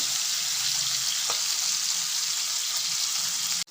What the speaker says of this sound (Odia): ମାଛଟା ଗୋଟେ ପଟ ଭାଜି ହେଇଯାଇଥିବ କାଢ଼ି ନେବ କିଛି ନାହିଁ